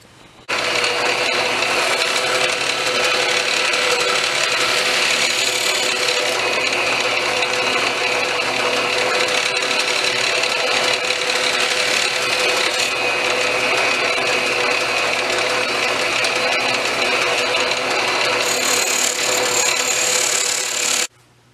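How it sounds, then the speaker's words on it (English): A buffing wheel polishes steel flat springs with a continuous, loud motor whine and a steady abrasive hiss for about twenty seconds, close up and unbroken, with no voices. "then we'll take it over to the buffing wheel and really polish it up real nice"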